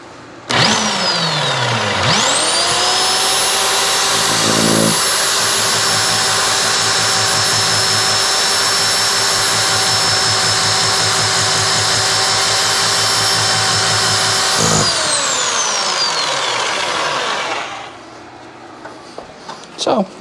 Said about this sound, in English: Oh, and this drill is loud.